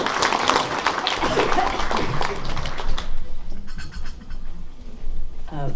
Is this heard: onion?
no